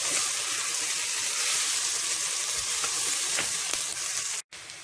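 Turkey wings, onions and carrots sizzle loudly as they brown in a casserole, a dense steady frying hiss close up with occasional spits, briefly cutting out near the end; nobody speaks.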